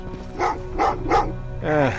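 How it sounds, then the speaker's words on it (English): Dogs bark in the video game Terminator: Resistance, three short barks close together followed by a longer whining yelp, with no talk over them. "Well, what's with the dogs?"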